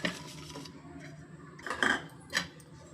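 Soft scraping and clinking of a spoon in a bowl as powdered jaggery is mixed into pittu, faint and irregular, with a few sharper taps against the bowl.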